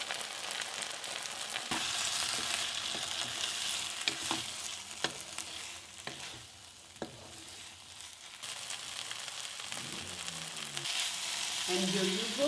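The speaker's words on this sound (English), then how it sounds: "Then again stir and cook it on a low flame until it becomes completely dry." Fermented dry fish and potato sizzle and fry in a pan over a low flame, with intermittent scraping clicks of stirring close up and steady frying hiss throughout.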